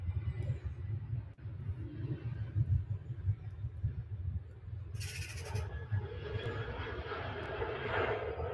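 Airliner at Manchester Airport taxiing then throttling up for takeoff, a distant low engine rumble that swells into a broader roar partway through, faint and heard alone.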